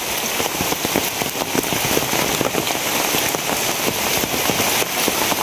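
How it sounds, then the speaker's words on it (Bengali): Rain falling steadily again, a loud dense wash of patter with crackling drop impacts close by, continuous and without talk. "আবার শুরু হয়েছে বৃষ্টি।"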